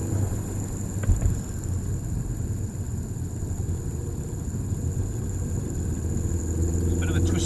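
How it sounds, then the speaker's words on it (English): A 1.8T 20V turbocharged four-cylinder car engine revs steadily under added throttle on a twisty road, a continuous low rumble that swells slightly toward the end, with a brief knock near the start. "Just give it some more gas here."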